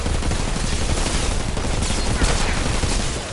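Dense, continuous SMG fire in the video game Outriders, loud and sustained rapid shots with no break, and no voices over it.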